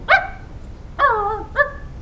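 A person in a dog fursuit imitates a dog, giving three short, close, loud barks with pauses between them.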